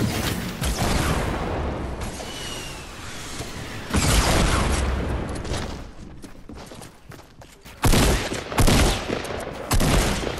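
In a Fortnite match a grenade launcher fires in a string of loud, punchy blasts and booms that arrive in bursts, with clattering gunfire and game effects crowding in around them.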